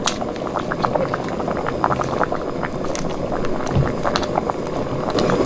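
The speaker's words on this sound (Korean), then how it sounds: "센 불에 10분을 푹 끓여줬습니다." A pot of broth with radish and onion bubbles at a rolling boil over high heat, dense popping and gurgling continuing steadily throughout, fairly close.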